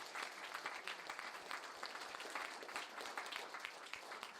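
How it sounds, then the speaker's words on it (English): Faint, distant applause from a gala crowd at an anniversary cocktail dinner, honouring the club's president; a brief, steady patter of many hands, quiet and far off. "I would like you to applaud John Bennett"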